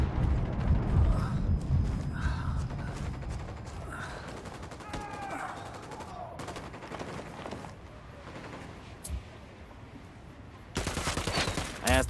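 Automatic and burst gunfire from the tactical shooter game Ghost Recon Wildlands, loud and dense at the start and then thinning into scattered shots, with a fresh loud burst near the end.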